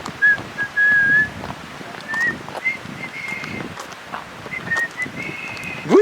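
A person whistles the American national anthem, producing clear, sustained high notes in short phrases broken by pauses, close and fairly loud, with a little background noise.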